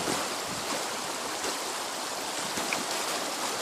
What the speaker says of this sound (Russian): Вода под ногами шумит.